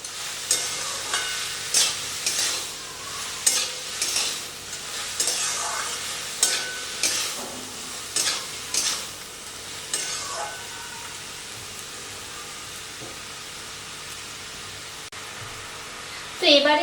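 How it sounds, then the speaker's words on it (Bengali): Bottle gourd and slit green chillies being stirred in a hot frying pan, a spatula scraping in repeated strokes over steady sizzling of oil, close and fairly loud, with no talking. "সবকিছু দিয়ে লাউটাকে একটু নাড়াচাড়া করে দেব।"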